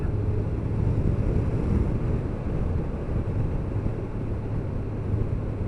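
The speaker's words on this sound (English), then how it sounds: "Out on the Triumph Sprint again." Rushing wind buffets the rider aboard a Triumph Sprint 900 triple motorcycle on a cold day out, a steady low roar of air and engine blended into constant noise.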